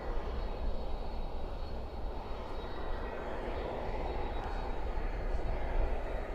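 American Airlines Flight 132 to Dublin, an airliner pushed back at night at Dallas/Fort Worth airport, produces a continuous broadband engine roar with a faint high whine, steady and moderately distant, with no voices.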